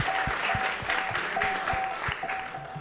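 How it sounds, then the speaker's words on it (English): Audience applause at a Hare Krishna temple gathering, a continuous close patter of many hands with a few louder individual claps and a faint sustained tone underneath. "Let's give him a big round of applause."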